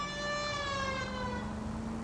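A police car siren in the video game L.A. Noire, a single steady wail that drops slowly in pitch as it fades out, heard clearly with no talk over it.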